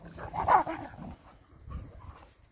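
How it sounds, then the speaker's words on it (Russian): A dog barks and growls in short rough bursts, a loud peak early and a softer one later, close by and with no talk, while the family prepares to leave for Karelia. "Рыка и гавканья"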